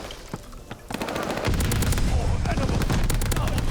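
Rapid automatic fire from an Owen gun in Call of Duty Vanguard multiplayer, a dense, loud, continuous burst of close gunshots following a few isolated shots.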